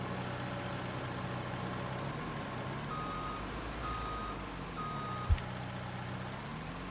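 Wheel loader in the Farming Simulator 19 video game on a West Texas dairy farm, its engine idling steadily with a faint, thin reversing beep running through.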